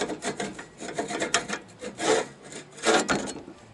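Pieces of an RV furnace access panel on a Suburban SF-30 unit are pulled out, giving repeated scraping, rubbing rasps at close range, a run of short grinding pulls with no talk.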